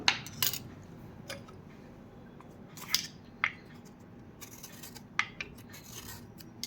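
A knife peels a raw mango, giving faint, sparse scrapes and small clicks spaced irregularly in a quiet room.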